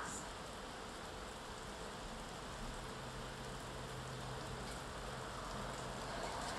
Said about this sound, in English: hopefully it won't pick up the sound of the pouring rain too bad